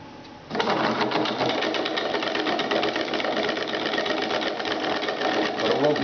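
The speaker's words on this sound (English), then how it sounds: "this piece, it's a strong motor" A strong small electric motor whirs steadily inside a homemade decoy, starting abruptly after a brief pause and holding a constant buzzing drone up close.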